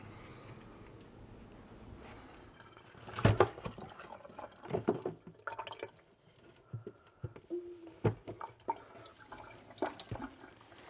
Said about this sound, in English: So I'm going to take this over to the sink, turn it upside down, and let it fall out.